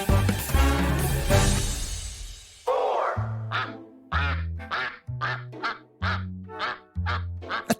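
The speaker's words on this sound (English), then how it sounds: "The army of around 500 Indian runner ducks has a taste for snails" A flock of about 500 Indian runner ducks, kept for snail control at a vineyard in Stellenbosch, South Africa, starts with a dense jumble of overlapping calls, then gives a steady run of six loud, separate quacks.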